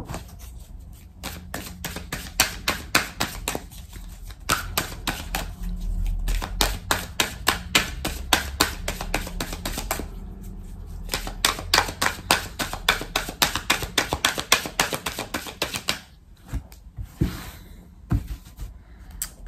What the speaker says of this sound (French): On va prendre 3 cartes du tarot persan de Madame Indira